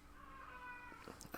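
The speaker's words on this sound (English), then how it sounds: "sorry guys, that's my cat" A deaf pet cat gives a drawn-out, faint meow indoors, followed by a few soft chirping sounds.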